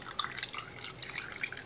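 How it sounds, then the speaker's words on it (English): Tea concentrate is poured over ice cubes in a glass at home, giving a light trickle with small clinking drips and crackles from the ice, close and fairly quiet. "add some ice cubes and then just pour in your tea concentrate."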